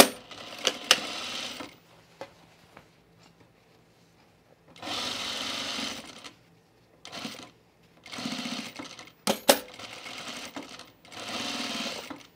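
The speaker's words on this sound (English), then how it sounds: "So let's top stitch the pocket." A sewing machine topstitches a pocket on men's chino pants in several short runs of rapid stitching separated by pauses, with sharp clicks and fabric handling between bursts.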